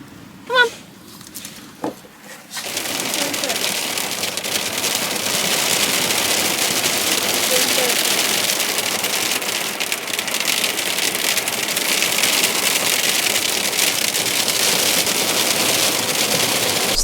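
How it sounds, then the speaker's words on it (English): Heavy rain pours down steadily and loudly on a van roof in cold weather, a dense unbroken hiss after a few brief knocks and faint sounds at the start. "The rains are really coming down now and it's got a lot colder."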